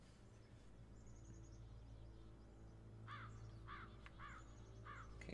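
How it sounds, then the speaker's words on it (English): Crows caw in the video game The Beginner's Guide: several short, harsh caws at a distance, coming in a loose series over a steady low hum and faint insect-like chirping. "Okay, crows somewhere."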